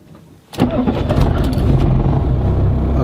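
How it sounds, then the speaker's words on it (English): A Mercedes-Benz W124 car engine cranks and catches after a quiet moment, then settles into a steady, close idle with no talk. "All we have to do now is to start the vehicle and place the heat on."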